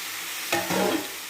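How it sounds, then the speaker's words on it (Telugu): Tomatoes frying in a pan give a soft, steady sizzle with a brief stirring scrape and a burst of crackle partway through, close and fairly quiet. "టమాటా వేసి టమాటాని ఫ్రై చేసుకోవాలండి."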